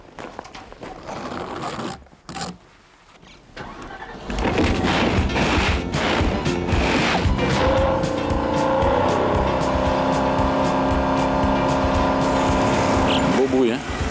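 A 450-horsepower sports car in snowy Courchevel starts with quiet, muffled rumbling, then breaks into a loud, sustained engine roar heard up close.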